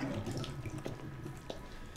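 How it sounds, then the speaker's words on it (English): Water running and draining out of a basin in the Resident Evil 7 survival horror game, a steady faucet-like rush with a few small splashes, moderately faint and alone. "Oh, you let the water out."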